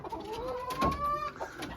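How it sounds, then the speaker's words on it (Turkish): A broody dwarf Cochin hen in winter clucks in a short drawn-out call that rises and falls, fairly close, over a steady background hum. "Tavuğumuz Gurka yatmış artık"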